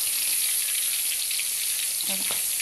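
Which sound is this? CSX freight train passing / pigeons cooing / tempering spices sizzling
tempering spices sizzling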